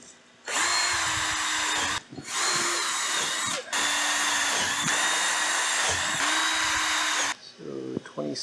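A power drill bores holes in a freeze dryer cart build, running in several sustained bursts separated by short pauses, loud and close, with a brief voice near the end.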